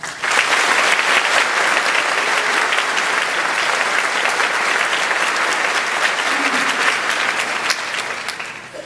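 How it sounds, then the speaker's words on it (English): Loud, sustained applause from the audience at a high school commencement ceremony in 2013, a dense wash of clapping that holds steady for nearly nine seconds before easing slightly at the end. "I think that they deserve a round of applause"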